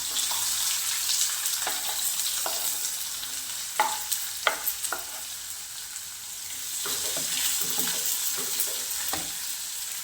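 Finely chopped onion sautés with asafoetida for tomato chutney, a steady moderate sizzle punctuated by several distinct spatula scrapes and taps, close up and alone.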